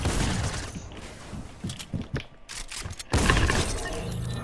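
Shotgun blasts in the Fortnite video game, several sharp broadband bangs spread through a busy match, with the loudest burst near the end ringing on at close range.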